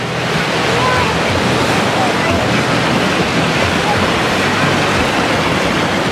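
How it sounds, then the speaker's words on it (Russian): Waves wash steadily in a river bay at a yacht club on the Dnieper embankment in Kyiv, a continuous broad surf roar mixed with wind buffeting the microphone, loud and close throughout. "Волны! Статус, какие волны чудесные."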